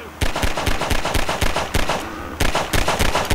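Rapid pistol shots in the video game Half-Life 2, a dense series of loud, sharp cracks fired in quick bursts with short pauses between them.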